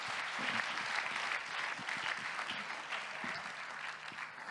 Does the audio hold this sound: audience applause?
yes